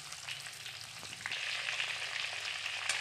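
Eggplants frying in hot oil for stuffed brinjal, a dense continuous hiss of sizzling oil with a few small crackles, close and steady, no voices.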